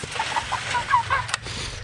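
Six-week-old meat chickens clucking close by in a series of short, quick clucks, with a brief clatter toward the end.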